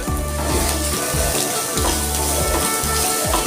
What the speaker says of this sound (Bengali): পেঁয়াজ কুচি বেজে নিচ্ছি